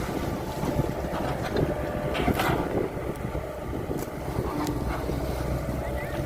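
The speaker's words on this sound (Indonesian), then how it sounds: "Walaupun ini ada angin ya. Anginnya cukup besar teman-teman." Strong outdoor wind buffets the microphone in a continuous broadband roar along a river channel being dredged of weeds, with faint engine rumble underneath and brief gusty swells.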